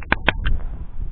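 A few geese rising from winter marshland by the Biebrza river give three short, harsh honking calls in quick succession, fairly close, then fade into a soft, low rustle.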